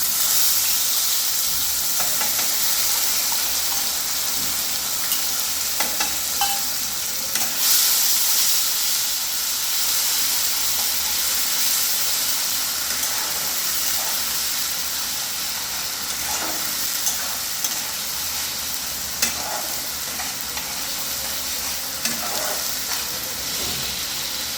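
Onion paste sizzles and hisses steadily in hot oil with black cumin in a pan for a Bengali pabda fish curry, a continuous close frying crackle with occasional stirring scrapes and soft pops, no talking.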